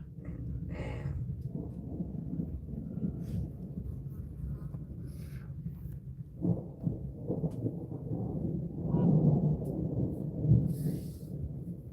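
Deep, rolling rumble of distant thunder from a monsoon storm with bright lightning, swelling and fading over several seconds, with a couple of louder surges near the end.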